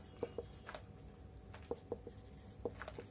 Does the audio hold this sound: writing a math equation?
yes